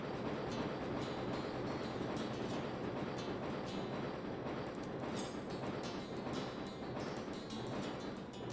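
Train wagons rolling away along the track in the video game Wild ARMs 2, a steady loud rumble with clattering wheels and occasional metallic clicks throughout.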